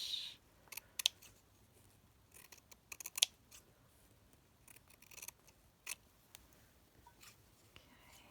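Scissors snip through fabric in sparse, crisp cuts for a slow-stitch butterfly embroidery, quiet and close, with scattered single clicks and short pauses between them.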